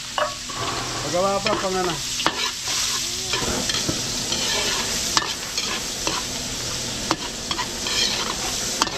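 Garlic and onion stir-frying for a large batch of chop suey, a steady sizzle with scraping and stirring clatter throughout, a voice speaking briefly over the cooking near the start.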